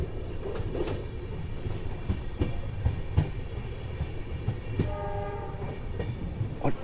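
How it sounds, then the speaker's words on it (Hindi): Train running on the Ahmedabad to Udaipur line at around 80 km/h, loud steady rolling rumble with rhythmic clickety-clack of wheels over rail joints and a brief horn sounding near the end. "ट्रेन की रफ्तार जो है वो 80 किलोमीटर पर आवर पे रुकी हुई है"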